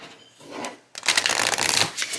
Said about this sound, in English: I will just shuffle as I do often with these types of decks, and just half the deck and shuffle that way